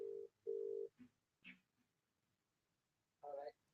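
Two steady electronic telephone tones sound back to back, clear and close, followed by brief quiet noises and a short voice-like burst near the end.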